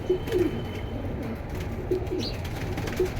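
Pigeons for sale in Bangladesh coo softly in short repeated phrases against a steady background murmur.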